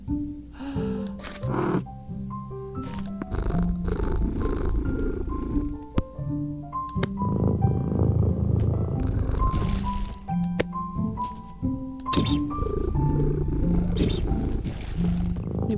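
Cartoonish cat sounds from the puzzle game A Little to the Left, with purring and growly rumbles mixed among bright chiming musical tones, loud and busy throughout.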